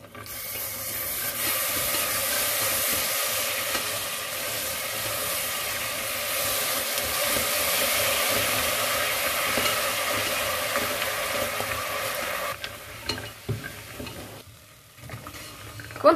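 Toasted almonds being stirred with honey in a pan for Sicilian cubbaita nougat, a steady close sizzle and scraping stir that runs continuously, then breaks into a few irregular clacks near the end.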